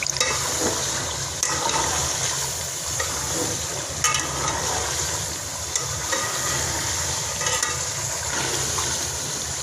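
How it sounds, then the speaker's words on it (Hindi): Steady sizzling and frying fill the clip, with occasional scraping stirs of spices and chicken in a hot pot, close and continuous. "ये जो मसाले डाले हैं वो भुन गए हैं। इसे हमें 2 मिनट के लिए भूनना है"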